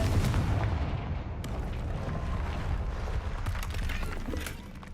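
The Confringo explosive spell in Hogwarts Legacy, heard as a booming, rumbling blast with dense crackling debris that fades after a few seconds.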